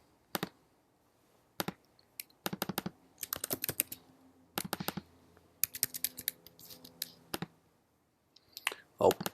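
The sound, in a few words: typing a password on a computer keyboard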